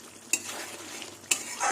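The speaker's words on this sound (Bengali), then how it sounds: "আর একটু মশলা কষাতে হবে।" Spice paste for a mustard and cumin tengra fish curry fries in oil with a steady close sizzle, punctuated by two sharp clinks of a spoon scraping the pan while stirring.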